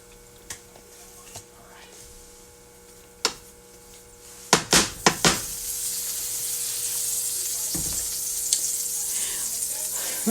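Fries sizzle steadily in a pan of hot fat beside brunch cooking, a continuous bright hiss that swells after a few sharp clanks and taps of a utensil, close up with no talking.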